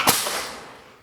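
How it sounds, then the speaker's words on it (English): A 1969 Dodge Charger with fuel injection backfires while cranking, one sharp loud pop close by that decays quickly into a fading rumble. "What did it just do? Backfired."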